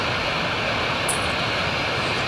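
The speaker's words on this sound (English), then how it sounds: "you just move this button upward and the speed of the plane will increase, as you can see" A steady airplane engine drone from the Real Flight Simulator mobile game, a constant broadband roar with a thin sustained tone as the plane speeds up.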